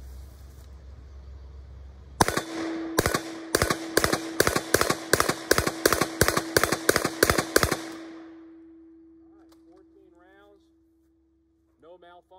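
An AC Unity MP5 in 9mm fires a rapid string of about fourteen loud, sharp shots at a steel target, followed by a lingering ring and faint noise afterward.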